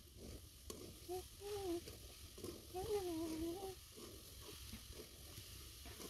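Grated coconut sizzles while frying in a pan for coconut naru, a steady soft hiss broken by brief stirring scrapes, fairly quiet and close.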